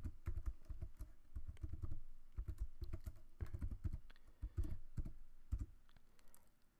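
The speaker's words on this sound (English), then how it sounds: "So once you've typed this in, you hit enter." Computer keyboard typing, close and quiet, with quick irregular clusters of key clicks and brief pauses between bursts while a command is entered.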